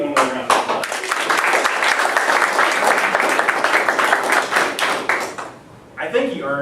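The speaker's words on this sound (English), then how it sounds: "let's give one more round of applause" Dense, sustained clapping from an audience at a homecoming guest lecture, loud and even for several seconds before fading, with a voice starting to speak at the end.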